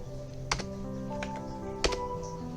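Typing on a computer keyboard on a Debian Linux system, a few soft, quiet keystrokes spaced out over a faint steady background hum.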